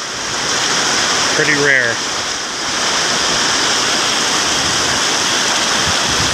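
Storm water runoff rushes loudly and continuously close by, a dense roar like a strong stream, while someone speaks briefly over it early on.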